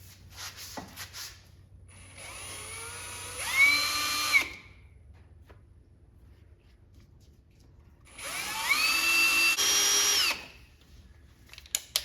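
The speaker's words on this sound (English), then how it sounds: "Kind of switching back and forth between the smaller bits and the larger bits just to keep me centered." A power drill bores holes in a Jeep JLU during a harness bar install, giving two close bursts of rising motor whine and bit grinding, each about two seconds long, separated by quiet pauses.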